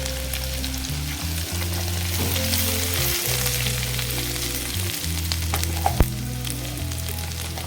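A paste frying in a pan sizzles steadily and closely for several seconds, with faint stirring and one sharp tap near the end. The dish is a Kathiyawadi whole-onion shaak, and turmeric and sesame are about to be added. No one talks.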